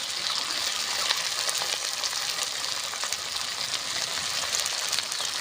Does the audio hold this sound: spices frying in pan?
yes